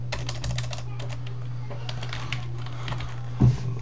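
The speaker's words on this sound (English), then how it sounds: "So type in your name." Typing on a computer keyboard while entering a name at a program prompt during a C programming lesson; a light, fairly steady patter of key clicks runs through, with a louder single thump near the end.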